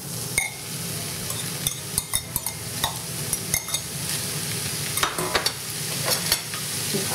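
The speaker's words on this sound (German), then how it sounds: "So ein bisschen den Holzlöffel verteilen und dann brate ich das schön grünlich an." Ground meat fries with onions in a pan under a steady sizzle, while a wooden spoon stirs and knocks against the pan in repeated close taps and scrapes.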